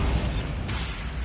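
Bombarda blasting spell exploding in Hogwarts Legacy, a loud, dense burst of noise that rolls on through the whole short moment.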